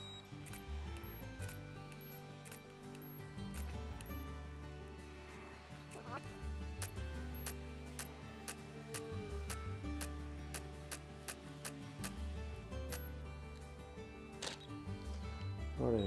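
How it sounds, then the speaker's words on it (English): A camera shooting macro focus-stacking frames fires repeated shutter clicks at irregular intervals, faint and close, over a low steady hum. "I'll keep taking shots and just keep doing the same."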